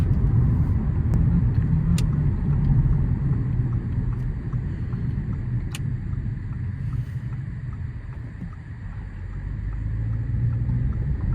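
A car drives on a UK motorway with a steady, loud low road rumble and engine drone that dips slightly midway and swells again, with a few faint clicks and no talking.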